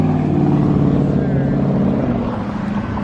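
Deep, steady exhaust drone from a car fitted with an equal length mid pipe, loud and continuous throughout the short stretch with no break.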